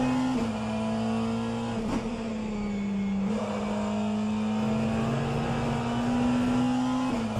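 Steady drone of a McLaren race car engine in a sim racing endurance event, held at high revs with small pitch dips at gear shifts, continuous and loud with no talk.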